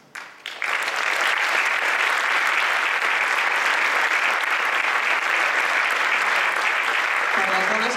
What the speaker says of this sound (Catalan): Un aplaudiment fort per les dones.